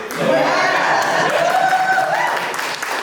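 A crowd claps steadily at a community welcome event, a dense, loud wash of applause mixed with a few cheers, with a voice rising over it near the end.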